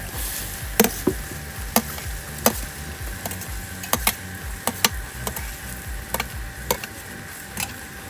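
Dried chillies, onion, garlic, ginger paste and carrot fry in a pan with a steady sizzle, punctuated by sharp spatula scrapes and taps against the pan at irregular intervals, with no talking.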